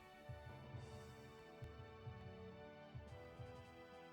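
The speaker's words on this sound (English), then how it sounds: "It's a heartbeat." A slow, soft heartbeat pulses in the Tear Ring Saga video game. Its low double thumps repeat steadily over a faint, humming musical drone.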